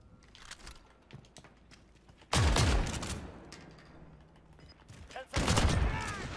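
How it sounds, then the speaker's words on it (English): Shotgun fire in the video game Call of Duty Modern Warfare comes as two loud, sharp blasts a few seconds apart, with quieter clicks and game noise in between. "you can finish him with a shotgun"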